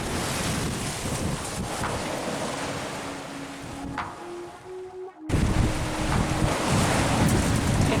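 Ocean waves rush and crash around a sailboat on a rough passage to Martinique, a steady loud wash of water and wind with a brief lull before the surge returns.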